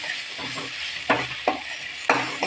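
Chili powder stirred into a frying Manchurian mixture, a soft sizzle under three or four firm scraping strokes of a spoon against the pan, close by and without speech.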